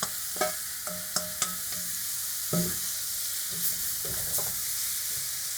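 Lamb meat goes back into a hot stew pot, searing with a bright steady sizzle while a spoon knocks and scrapes the pot in several sharp clanks.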